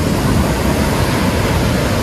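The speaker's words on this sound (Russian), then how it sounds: "Ну что, потрясающие волны." Strong sea waves crash onto the shore at a seaside resort in Alanya, a loud, steady roar of surf with no voices.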